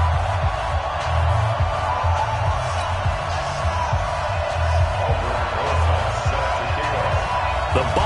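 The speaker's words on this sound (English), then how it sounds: "This crowd is ready" A stadium crowd roars in an NFL video game on PS4 during a New York Giants versus Washington Redskins matchup, a steady rumbling cheer beneath continuous commentary.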